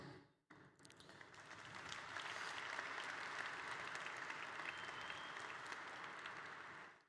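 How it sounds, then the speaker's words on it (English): Applause from a conference audience builds within the first second and then holds as a dense, steady clapping wash for the rest of the clip, with no voices over it. "So obviously you're clapping"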